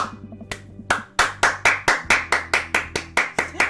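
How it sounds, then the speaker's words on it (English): A lone character in the dating game Dream Daddy claps in a sharp, close, evenly spaced series that starts slow and quickens into a steady rhythm. "She begins clapping, slow at first, then faster and more vigorously."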